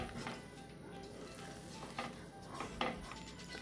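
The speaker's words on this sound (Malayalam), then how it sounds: "ഇടയ്ക്ക് ഇങ്ങനെ ഇളക്കി കൊടുത്താൽ മതി." Potato halwa is stirred in a pan, giving soft, close scraping and stirring sounds over a faint sizzle, with a few light clinks of the spoon against the pan and no one talking.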